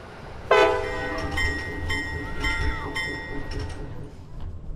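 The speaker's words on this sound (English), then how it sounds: "just imagine this being 399 coupling to the train instead" Locomotive 399 of the New Hope Valley Railway couples to a train, a sudden loud clank followed by a sustained tonal squeal and rumble, with ringing metallic tones fading over several seconds.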